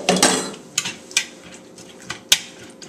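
Quiche filling being mixed in a bowl, with a utensil clinking and scraping against the sides in quick irregular strokes, close and fairly loud, with several sharper taps.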